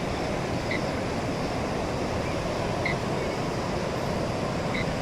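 Aasnoli River in Badlapur flowing strongly during the rainy season, a dense continuous rushing roar of water, steady and close, with no pauses across the stretch.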